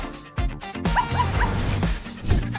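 A corgi puppy yips and whimpers in a string of short, high, close-up cries and little barks, several in quick succession.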